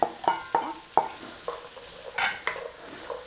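Carrots and celery stirred and frying in a pan: repeated scraping stirs and clatters over a soft, continuous sizzle, close and fairly loud.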